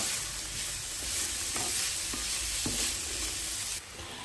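Sweet pepper fries in a pan with a steady loud sizzle, broken by a few scraping stirs of a utensil against the pan.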